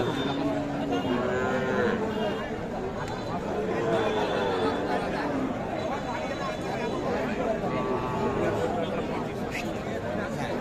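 Bony, skinny cattle lowing at a busy cattle market, several long moos rising and falling one after another, close and fairly loud, over a constant murmur of crowd chatter and people talking.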